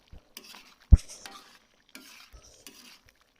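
Beef karahi being stirred and sautéed in a wok, with a few scraping strokes and one sharp metal clank amid a soft, faint sizzle.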